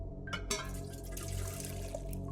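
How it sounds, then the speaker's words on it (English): Water filling a container in the video game The Silent Age, a short burst of splashing and dripping over a steady low hum, followed by faint trickling. "All filled up with water."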